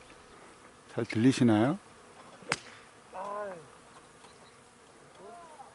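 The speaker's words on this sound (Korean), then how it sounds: "이게 지금 꿀벌들이 엄청나게 많습니다 이 꽃들에 예." Many honeybees buzz around flowers at the Sky Valley lake course, a dense, steady insect drone that carries on under and between a person's brief spoken question and other nearby voices.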